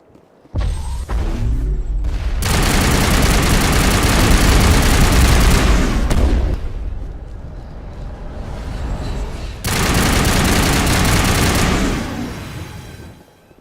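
Long-range turrets fire in the Mass Effect video game, blasting out in two long, loud, continuous bursts of rapid gunfire separated by a brief lull, with no talking.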